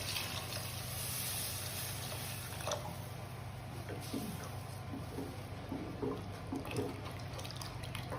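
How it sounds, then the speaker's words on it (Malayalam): Water pours into a pot of sardine curry with a low, steady gurgle, followed by a few scattered drips and splashes. "നമുക്ക് ആവശ്യത്തിന് വെള്ളം ഒഴിച്ചു കൊടുക്കാം."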